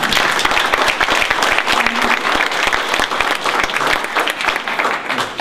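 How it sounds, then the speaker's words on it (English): Audience applause for award recipients at a community human relations commission ceremony, dense sustained clapping from a crowd in a room, loud and close, without speech. "let's give our awardees another round of applause."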